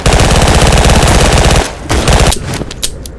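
Rapid machine gun fire in the first-person shooter game Double Action, a loud continuous burst for over a second and a half, followed by scattered shorter bursts and single shots.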